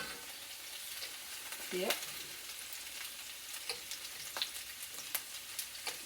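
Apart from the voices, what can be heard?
potatoes frying in bacon grease in a pan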